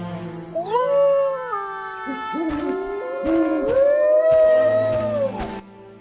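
A dog in The Witcher howls in long, rising and wavering tones, several drawn-out howls in succession, loud and clear with no talking.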